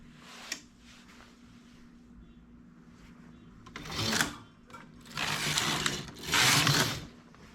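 A knitting machine carriage slides across the needle bed while stitching a baby bootie, giving a faint click at the start and then three loud rasping sweeps in the second half, each a few seconds apart.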